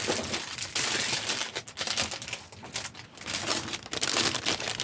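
A sheet of craft foam paper is handled up close, giving dense crinkling and scraping rustles in uneven bursts with brief pauses, with no talking.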